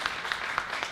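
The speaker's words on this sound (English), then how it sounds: "Love the crowd also cheering for everything." Audience applause and cheering at the Ubisoft Toronto NEXT awards ceremony: a steady wash of crowd clapping with a few louder bursts, brief and fairly close.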